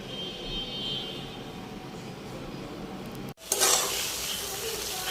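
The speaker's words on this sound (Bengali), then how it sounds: "ঢ্যাঁড়সগুলোকে একটু সেদ্ধ করে নিচ্ছি" Okra boils in a pot with a steady bubbling hiss that cuts off for a moment and then returns louder and brighter, with no one talking.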